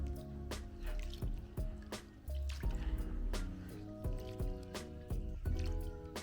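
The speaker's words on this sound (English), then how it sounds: "Cover it with a room temperature water and thoroughly wash the rice to get rid of all the starch." Basmati rice being washed by hand in room-temperature water in a bowl: repeated wet sloshing, dripping and swishing splashes in an irregular rhythm, close and clear.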